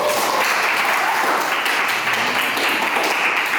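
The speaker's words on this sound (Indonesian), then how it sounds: "Oke, aplaus." Classroom applause, steady dense clapping from a group of students, loud and continuous throughout with no pauses.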